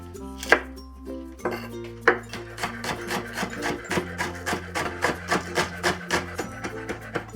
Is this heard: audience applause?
no